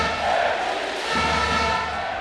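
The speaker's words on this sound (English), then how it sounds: "Massive, full capacity crowd here. Let's, Jesus Christ, they're so loud." A loud, full-capacity crowd of over 3,000 fills the arena at a futnet world championship triples final, roaring and chanting in a dense, continuous wall of noise that never lets up.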